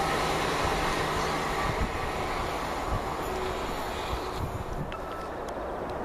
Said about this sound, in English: This is a little shuttle service they usually do down to Leamington.